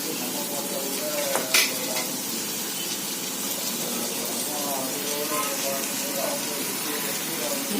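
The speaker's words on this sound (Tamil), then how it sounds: "தக்காளி நல்லா சுருண்டு வதங்கினதுக்கப்புறம் கொஞ்சம் ஒரு 5 நிமிஷம் சுருங்க வதங்கட்டும்" Tomatoes sauté in a pan, a low, continuous sizzle with occasional stirring scrapes and one sharp utensil clink near the start, under a voice talking.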